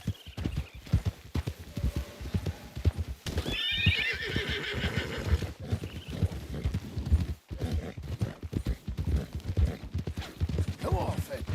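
An angry horse in Red Dead Redemption 2 whinnies loudly several times, with hooves clip-clopping throughout, while someone talks over the scene.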